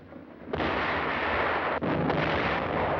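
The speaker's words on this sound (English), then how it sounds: "Our own artillery was brought to fall within 100 yards of our front-line elements." Heavy artillery fire from 1945 World War II combat near San Pietro booms in a dense, continuous rumble. It swells sharply after a quieter start, with one brief dip partway through, and is loud throughout with no speech.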